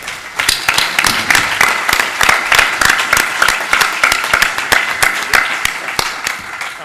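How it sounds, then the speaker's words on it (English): An investor forum audience applauds the startups. Sharp, distinct claps ring out close by over a continuous bed of applause that lasts throughout. "So how about just a round of applause for all the startups?"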